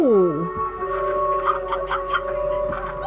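Hens in the video game Slime Rancher cluck in a cluster of short, clipped calls over sustained game music tones.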